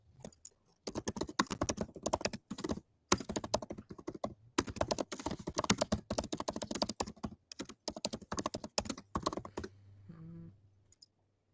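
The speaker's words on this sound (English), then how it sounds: "That sounded kind of like revenge typing." Fast, aggressive typing on a computer keyboard during a stock-trading live stream, dense bursts of hard key strikes with brief pauses, close and loud, ending in a few quieter clicks.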